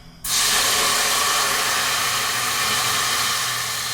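Cider poured into a hot pot with a sudden loud sizzle that settles into a steady, hissing sputter close by.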